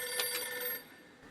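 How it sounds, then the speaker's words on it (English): Telephone ringing in a cartoon concert setting, a quiet trilling bell with repeated bursts over about a second, fading out. "It's probably a phone."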